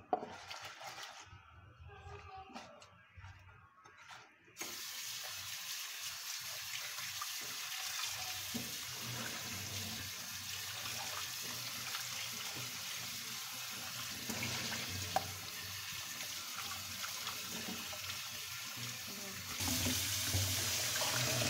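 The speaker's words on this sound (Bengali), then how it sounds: "আমি এখন মাছটা সুন্দর মতো পরিষ্কার করে ধুয়ে নিলাম।" Tap water runs steadily into a sink while a raw rohu fish is rinsed clean in a home kitchen, a continuous close splashing wash that gets louder after the first few seconds, with no one talking.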